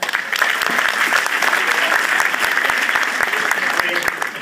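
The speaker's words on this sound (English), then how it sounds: "Give yourself a round of applause." A crowd at a motivational talk breaks into loud, sustained applause, many hands clapping in a thick continuous roar with crisp individual claps standing out near the front.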